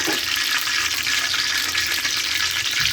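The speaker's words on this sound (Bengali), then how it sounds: "2টো তেজপাতা ছেড়ে দেব তেলেতে। এগুলোকে একটু নাড়িয়ে নেব।" Two bay leaves fry in hot oil with a loud, steady hiss and sizzle that carries on without a break while they are stirred. The sound is close, and no one talks.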